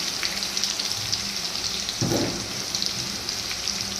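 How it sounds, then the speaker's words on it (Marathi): Cumin, green chili and salt sizzle in hot oil with garlic, a steady close frying hiss and crackle, with a brief louder burst when an ingredient drops into the pan, and no speech. "थोडंसं जिरं टाकून घेऊया आणि त्यानंतर मिरची टाकून घेऊया, त्यानंतर मीठ टाकून घेऊया"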